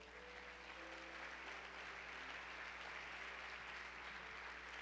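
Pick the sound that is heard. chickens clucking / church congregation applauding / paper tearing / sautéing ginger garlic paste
church congregation applauding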